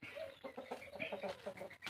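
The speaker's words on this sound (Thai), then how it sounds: "นี่ก็ ไก่ชนนะครับ" Thai fighting chickens (gamecocks) on a home farm cluck in a quick, uneven series of short calls, moderately close and fairly quiet, with no talk.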